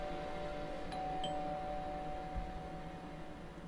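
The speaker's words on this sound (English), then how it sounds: "What, the doorbell just rang?" A faint electronic doorbell chime in the video game The Last Door sounds once, a couple of soft tones close together, over a quiet, humming background.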